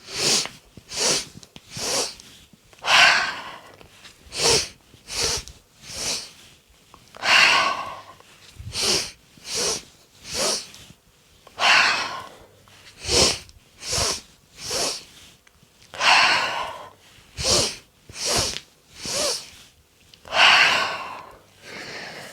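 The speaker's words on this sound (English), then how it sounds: "Take sharp inhales through the nose and a long exhale through the mouth." Yoga breathing exercise during a morning vinyasa flow: about sixteen rounds of sharp nasal inhales followed by longer, breathy mouth exhales, close and clear in a steady rhythm with no talking.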